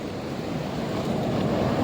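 Sea waves at high tide roll in on a fishing outing, a dense steady wash of surf with wind rumble, loud and close, no voices.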